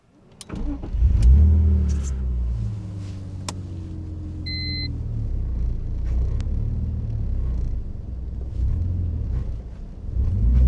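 BMW E46 Compact with a welded differential pulling away gently in first gear, a low steady engine rumble building and holding, close and moderately loud, with a few clicks and knocks.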